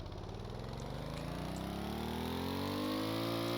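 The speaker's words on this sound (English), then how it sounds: "So I'm going to sit in the seat, start the engine." A small engine on a built machine starts up and settles into a steady idle, its low rumble climbing slightly in pitch and holding constant and close throughout.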